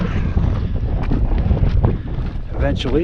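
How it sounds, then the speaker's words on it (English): Wind gusting across a high mountain ridge near 13,800 feet on Missouri Mountain, buffeting the microphone in a loud, continuous roar while a person speaks briefly. "It's a little windier up on this ridge"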